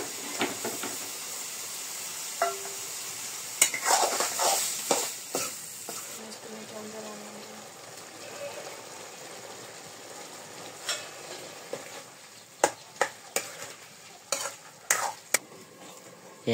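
Pumpkin frying in a home kitchen pan, a quiet steady sizzle broken by scattered stirring clicks and scrapes that sharpen into a run of sharp knocks near the end.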